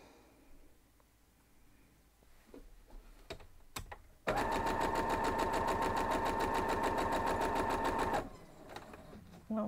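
A domestic sewing machine stitches a quilt block, running in one steady, loud, rapid mechanical burst for about four seconds after a few faint clicks and handling sounds.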